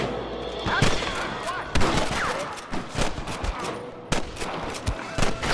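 Repeated gunshots crack out in bursts from the Western video game Red Dead Redemption, a loud exchange of irregular rifle and pistol fire with short gaps between volleys during a bridge fight.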